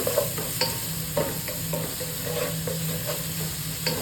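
Chopped onions frying with salt in a hot pan while being stirred, a steady sizzle with periodic scraping and clinking of a spatula against the pan, close and alone without voices.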